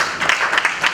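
Audience applause at a Catholic women's fundraising gathering in Uganda, a dense, steady wash of many hands clapping for about a second with no break.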